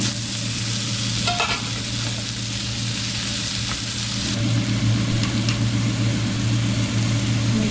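Malabar spinach is tipped into a pan of sizzling garlic and chilli, and the frying noise swells and thickens as the greens land, followed by a continuous loud sizzle with occasional stirring scrapes.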